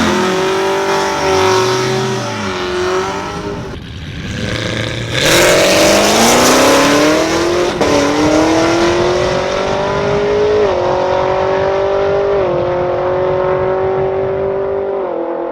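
A 1000hp twin-turbo Chevrolet Camaro ZL1 roars hard down a drag strip, its loud engine climbing through gears in rising pitch sweeps with brief shift breaks, close and continuous throughout.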